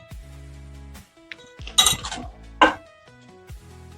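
Metal clinks and scrapes against a bowl in quick bursts as rava dhokla batter is stirred fast, with a ringing hum in the background before and after.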